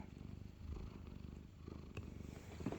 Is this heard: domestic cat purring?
yes